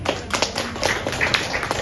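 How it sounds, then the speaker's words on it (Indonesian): Audience applause at a cervical cancer prevention training for teachers and health workers in Makassar: a steady, dense patter of clapping from an indoor crowd, lasting briefly without a break. "Kurang semangat, tepuk tangannya dong."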